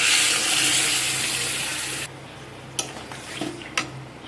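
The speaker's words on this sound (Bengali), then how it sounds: "তো এখন এর মধ্যে আমি দিয়ে দেব জল" Water pours noisily into a pot of sautéed potato and ridge gourd for about two seconds, then stops, followed by quieter stirring and a couple of sharp utensil clinks against the pot.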